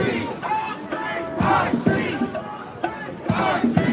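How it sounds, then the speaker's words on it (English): Drums pound in a rough, repeated beat within a large street protest crowd during a downtown Los Angeles ICE raid, heard amid loud shouting, chanting and chatter close by. "I hear somebody playing the drums."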